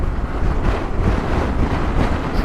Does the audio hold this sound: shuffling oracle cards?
no